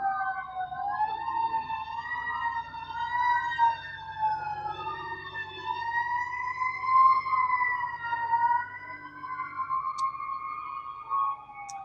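Emergency vehicle sirens wail outdoors in long rising and falling sweeps. Several tones overlap at a moderate distance, with no talking over them.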